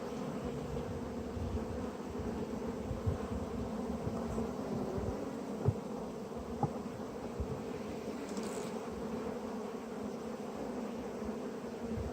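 Steady low buzzing of many honeybees on a hive, a continuous hum filling the whole stretch with no talking.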